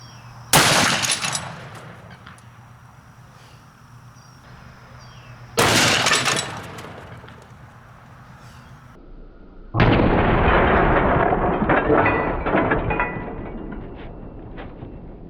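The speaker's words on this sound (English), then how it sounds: "Smith & Wesson 500 Magnum 500 grain flat point." Smith & Wesson 500 Magnum firing a 500-grain flat point round into ballistics gel: three loud, sharp gunshot blasts, spaced a few seconds apart, each with a ringing decay and echo, the last followed by a long rumbling tail.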